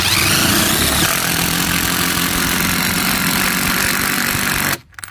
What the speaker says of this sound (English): This is a power drill.